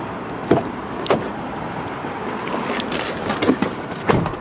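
Air suspension on a 2008 Land Rover LR3 V8 SE lowering the vehicle, a steady mechanical hiss and hum with several distinct clunks and thuds at intervals, fairly close and with no talking.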